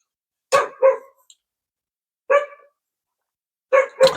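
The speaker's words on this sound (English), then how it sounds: "Sorry if you hear my dog in the background" A dog barks in short bursts: a quick double bark, a single bark a moment later, then another pair, each close and clear against silence.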